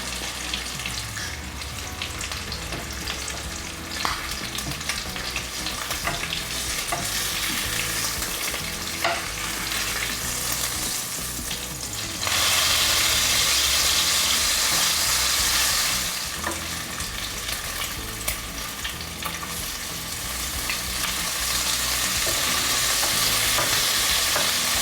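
Breakfast sandwich components frying together in a ceramic-coated compartment pan, a steady close sizzle with occasional stirring scrapes, growing louder and brighter in bursts partway through, with no talking.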